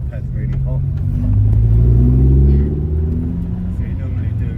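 A Renault Twingo RS 133 fitted with EBC Yellowstuff pads and Mtec C-Hook discs drives while its brakes are bedded in, accelerating toward 60 mph and slowing to 10 mph. The engine makes a steady loud rumble that swells in the middle, with a voice talking over it.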